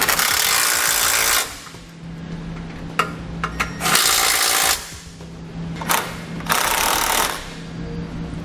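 Bolts on the bumper beam of a 2015 Kia Soul being snugged up with a 12mm socket, loud bursts of power-tool whirring separated by pauses with light metallic clicks and taps, close by.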